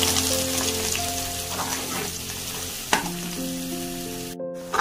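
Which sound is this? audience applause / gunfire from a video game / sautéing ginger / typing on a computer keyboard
sautéing ginger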